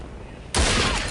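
Counter-Strike: Condition Zero gunfire, a sudden loud burst of rapid shots that cuts in halfway through and rings on to the end of a second-long moment.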